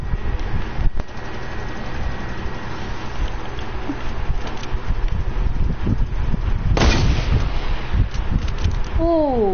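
Gunfire in the video game RO, with repeated loud booming shots over a constant windy battlefield rumble and one especially heavy blast near the end.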